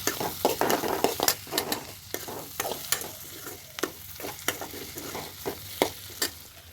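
Onion, garlic, ginger and cumin frying in a pan while being stirred, brisk repeated scraping strokes over a constant sizzle, close and fairly loud.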